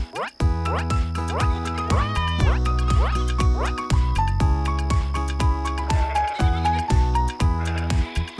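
Cartoon sheep bleat repeatedly in short wavering cries, mixed into bright, busy background music.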